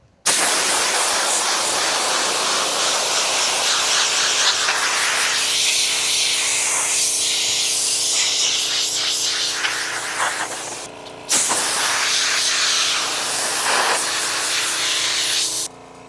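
Water sprayed hard against a flail mower's radiator to clean it, a loud continuous close-up hiss that briefly cuts out and restarts before stopping.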